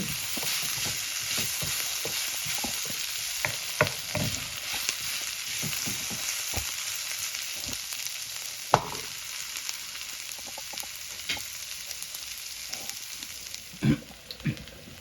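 Steady hiss of onions sizzling in hot oil for squid curry, broken now and then by the scrape and clatter of a spoon stirring the pan.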